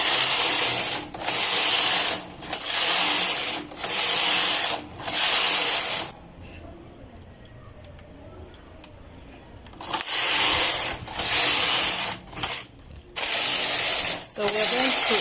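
A knitting machine carriage knits rows of a skirt from a punch card, with widening needle increases. Loud, rhythmic rasping sweeps repeat about every second, pause for several seconds of near silence, then resume in a burst of passes.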